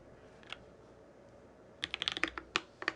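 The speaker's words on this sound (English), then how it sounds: "Here, one more typing test." Typing on a Space 65 Cybervoyager R2 keyboard fitted with Tangerine switches. A few isolated keystrokes come first, then a quick, fairly high-pitched burst of clacks, close and clear over a low background hiss.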